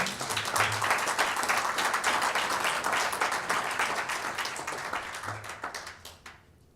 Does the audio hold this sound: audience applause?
yes